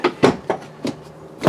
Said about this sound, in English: drawers, and they got a really stiff latch on them too